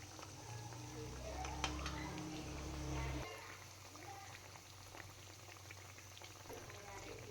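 Cassava vada frying in hot oil over a medium flame, giving a steady bubbling, boiling-like crackle that is louder for the first few seconds, then settles into a softer continuous fizz.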